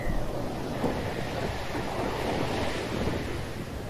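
Sea waves and surf rolling onto the shore at Acapulco, a steady, loud broadband wash with some wind buffeting the microphone, continuous and unbroken with no voices.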